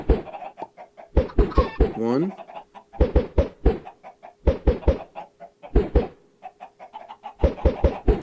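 Chickens cluck in a Minecraft survival game, several short bursts of clucking recurring through the clip alongside talk.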